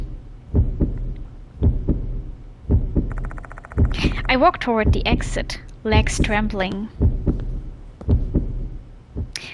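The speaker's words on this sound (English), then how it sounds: "I love the heartbeat sound." A slow, steady heartbeat sound effect from the horror video game Death Mark II thumps in regular double beats throughout, with a narrator speaking over the middle stretch.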